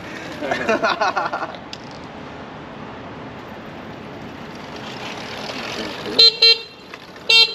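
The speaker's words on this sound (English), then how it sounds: "Oh, it's a good horn." Horn of a Throne SRPNT electric scooter sounding close and loud: a longer honk near the start, then two short sharp toots near the end, over steady low background noise.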